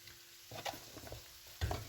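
Dried anchovies and onions fry in a pan, with a soft sizzle broken by a few scraping stirs and a louder burst of frying near the end.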